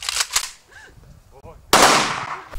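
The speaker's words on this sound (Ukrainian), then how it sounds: "Поховали Сергія на місцевому кладовищі під військовий салют." A military gun salute at a funeral in a local cemetery: a quick double crack of rifle fire, then a brief murmur of voices, then a louder volley that echoes and fades.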